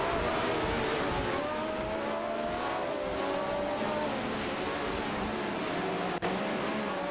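Video game race cars roar steadily and loudly, engine notes overlapping and shifting pitch as they jostle and overtake, with no voices.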